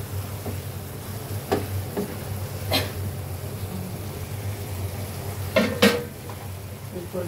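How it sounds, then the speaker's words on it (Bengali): A spoon stirs spiced village-style desi chicken curry with peppercorns in a pot: a constant low frying sizzle broken by scattered scrapes and sharp clinks of the utensil against the metal, some louder than others. "এখন নাড়তে থাকবো, অনবরত নাড়তে থাকবো।"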